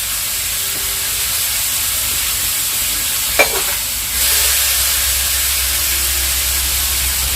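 Food frying in a pan gives a steady, loud hiss that continues throughout. A single brief clink sounds midway, and soon after a low rumble joins beneath the sizzle.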